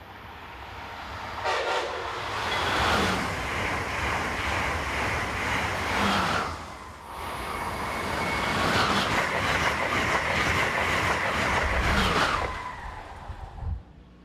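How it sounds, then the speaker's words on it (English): An Amtrak Acela Express, New York to Washington train 2159 with power car 2037 on the tail, speeds past on the CSX Metropolitan Sub in Maryland. A loud, close rushing roar swells and fades, with a horn blast near the start. "the 1 p.m. New York to Washington Acela Express train 2159 flew through"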